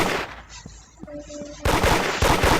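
A burst of gunfire in a horror video game, a few sharp shots early followed by a rapid, loud volley of repeated shots in the final second.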